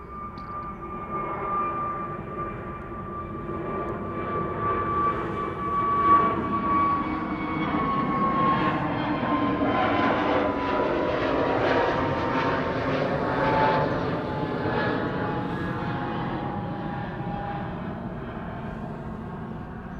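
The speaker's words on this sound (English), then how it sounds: "that heavy hitter in the background is going to be KLM flight 705 to Rio de Janeiro" KLM Boeing 777-200 jet departing for Rio de Janeiro, a loud sustained jet roar with a rising engine whine that swells and holds steady through the whole stretch, with no voices.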